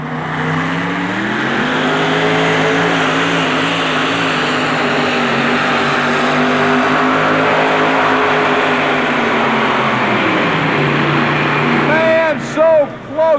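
A Super Chevy 4WD pulling truck roars at full throttle through a truck pull at an indoor arena, its engine rising and holding near continuous maximum revs before easing off, with an announcer talking over it.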